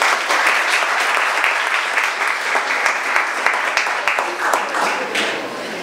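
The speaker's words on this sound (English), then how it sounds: "Please refrain from applauding" Audience applause at a Minneapolis candidates' event: a sustained, dense crowd clapping at moderate distance, even and continuous for several seconds with no talk over it.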